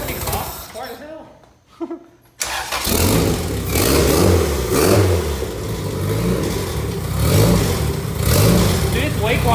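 Turbo Honda Civic engine cranks with a brief stutter, then catches and settles into a loud, rough idle with repeated rising revs close by, under excited voices talking.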